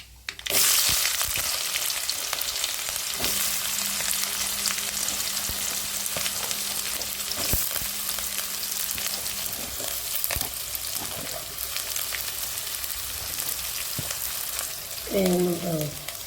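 Onions, curry leaves and chilies sautéing in a pan, a continuous loud sizzle and crackle of frying with occasional stirring scrapes, heard alone and steady throughout.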